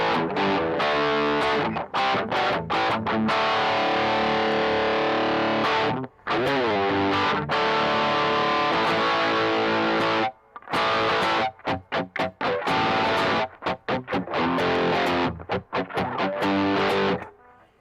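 A distorted electric guitar plays chords and riffs through effects, with several abrupt stops and restarts and no voices.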